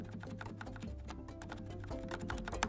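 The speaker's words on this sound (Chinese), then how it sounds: "然后我们再给大家听一下大键的声音" Large keys on a Corsair K68 mechanical keyboard are pressed in a fast, dense run of soft, muted clacks, heard close and quiet with no talking.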